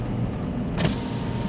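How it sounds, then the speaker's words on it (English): A car's electric power window motor whirs briefly as a window lowers, a short muffled hum under steady cabin and road noise, with no talking. "I've got to open my windows."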